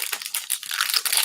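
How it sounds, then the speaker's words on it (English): A perfume package being unwrapped up close: brief crinkling and crumpling of wrapping, rapid rustles with no talking. "let's do the unwrapping"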